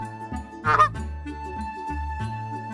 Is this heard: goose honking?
yes